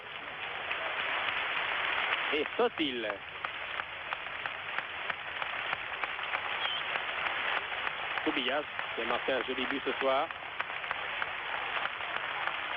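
A Barcelona stadium crowd applauds a football player warmly during a 1973 Europe versus South America selection match, with sustained, dense clapping throughout as a French commentator talks over it.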